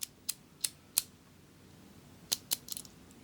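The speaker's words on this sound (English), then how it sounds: "I love the sound of those pins clicking into their special positions" A key turning in a lock makes a series of crisp, bright pin clicks, several evenly spaced sharp ticks, a pause, then a quicker cluster of clicks, close and faint against a quiet background.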